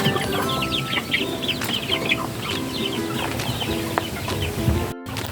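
Several hens cluck and murmur close by in a busy, continuous chatter, with occasional sharper calls and rustling; no talking.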